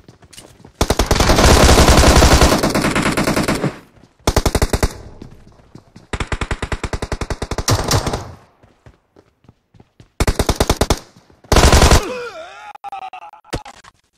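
Automatic gunfire in PUBG Mobile, including drop shots, comes in several long, loud, rapid bursts separated by short pauses, with a few brief shots and soft thumps between them.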